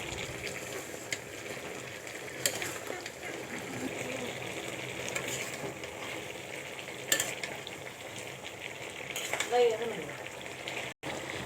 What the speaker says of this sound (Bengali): বলক এসেছে, এবার নাড়তে হবে।